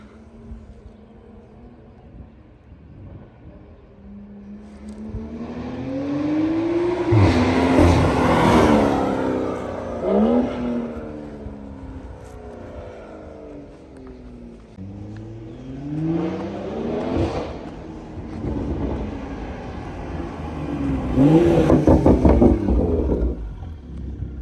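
A BMW M340i with an AWE Touring exhaust, CTS turbo downpipe and Stage 2 tune drives past, its engine note swelling and fading through several loud passes with wind noise between them.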